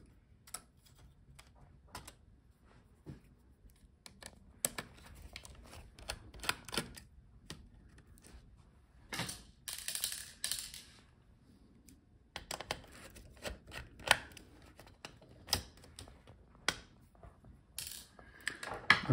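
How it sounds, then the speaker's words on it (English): Small screws being turned out of the fan of an MSI GF63 Thin laptop, giving sparse, quiet metallic clicks and ticks at an irregular pace with soft handling rustle in between, close up and without speech. "And unscrew the screws for the fan."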